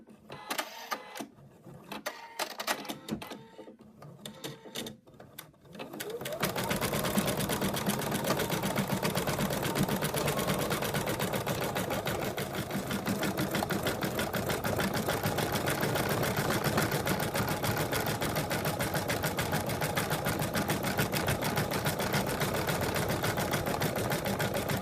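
An embroidery machine stitching lettering onto a mug rug, starting with a few scattered clicks and mechanical movements, then settling into a steady, fast, rattling hum of needle strikes that continues evenly and moderately close.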